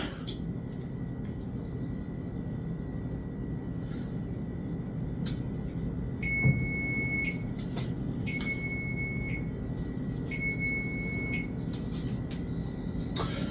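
While protein cookies bake, a kitchen timer goes off with three short bursts of high electronic beeping over a steady, loud background hum, each burst separated by a pause of about a second.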